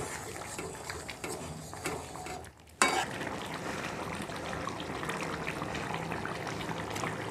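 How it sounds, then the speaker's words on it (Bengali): A spatula stirs rui fish head curry spiced with cumin, coriander and chilli in a pan, giving a close, steady sizzle and scrape that cuts out briefly before resuming. "খুন্তি দিয়ে একটু নাড়িয়ে দেব। এবার সব সাইডে মিশিয়ে দিলাম।"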